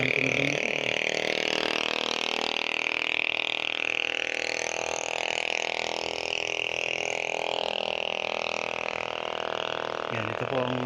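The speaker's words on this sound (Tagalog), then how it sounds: "So napakaingay ng tunog ng motor." A motorcycle engine runs loudly and continuously close by at a farm lot in Pila, Laguna, a dense buzzing drone with a slight wavering pitch and no break throughout.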